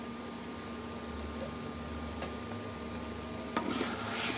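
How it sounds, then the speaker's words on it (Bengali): Food cooking in a pot on a stove, a faint low simmer and soft sizzle beneath a steady hum, with a brief clatter and a louder burst of sizzling near the end. "বন্ধুরা, রান্না বসায় দিচ্ছি, চুলা আমি অন করে দিচ্ছি।"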